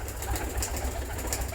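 Pigeons of a pure-bred racing or flying line coo softly in a low, continuous murmur, steady throughout with no other sounds standing out.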